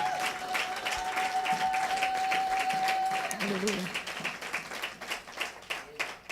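A church congregation applauding, a sustained wash of clapping from a crowd with people speaking over it and a tone sounding in the background.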